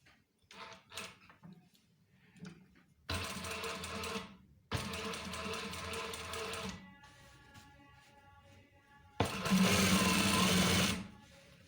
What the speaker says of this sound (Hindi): किनारे की सिलाई लगानी है जिप के साथ